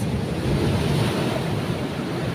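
Ocean waves surge and wash steadily along a shore during a fishing outing, a dense, continuous roar with wind buffeting the microphone, loud and close with no voices.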